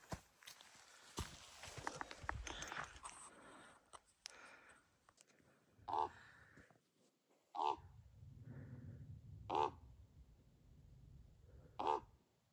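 A bird caws four times at spaced intervals, sharp and fairly close, on the John Muir Trail, over quiet background shuffling and a low rumble.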